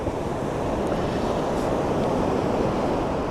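Ocean surf rolls steadily onto Clearwater Beach on a chilly evening, a continuous broad wash of breaking waves with some wind rumble, loud and unbroken throughout with no voices.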